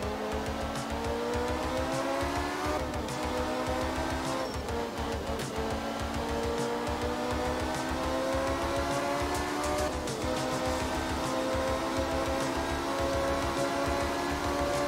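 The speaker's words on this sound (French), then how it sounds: "Ça va très vite, gros freinage." A Lancia Stratos rally car in Art of Rally screams at high revs, then brakes hard with tyre squeal as the engine note drops and climbs again through gear changes, loud and continuous with no talk.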